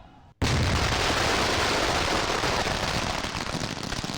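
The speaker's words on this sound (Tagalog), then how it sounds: "Ipinakita ng Explosives Ordnance Division o EOD ng PRO-4A kung gaano kalakas ang ilan sa mga nakumpiskang iligal na paputok." Confiscated illegal firecrackers detonated in a police explosives demonstration at Camp Vicente Lim in Calamba, Laguna: one sharp blast after a brief quiet, followed by a loud, sustained crackling and hissing roar that fills the rest of the clip.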